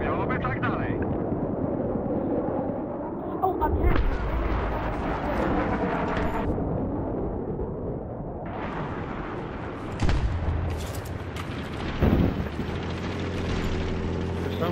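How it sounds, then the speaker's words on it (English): Mortar fire in the video game Battlefield 3, heavy booming impacts around 4, 10 and 12 seconds over a constant droning battlefield rumble, with voices talking throughout. "There's some guy using mortars around."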